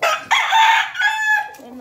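A rooster crows once, close and loud, in a drawn-out harmonic call that rises and then trails off over nearly two seconds.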